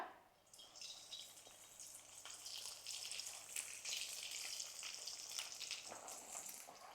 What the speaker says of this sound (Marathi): तेल तापलंय आता आपण वड्या तळून घेऊया